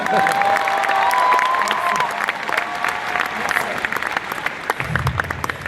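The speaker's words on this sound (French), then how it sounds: "j'aimerais bien que vous fassiez un tonnerre d'applaudissements pour lui quand même" Loud audience applause fills a room, a dense steady roar of clapping that starts at full strength and tapers near the end as a voice begins speaking over it.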